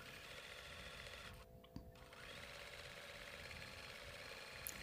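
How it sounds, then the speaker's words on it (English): A sewing machine runs steadily while free-motion quilting mug rugs, a soft, even mechanical whir with a brief pause partway through, heard close and quiet. "You can move them around in your sewing machine and really get lots of practice"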